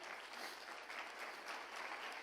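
Church congregation clapping during a Spanish-language sermon, a short dense burst of applause at low level, steady throughout with no speech over it.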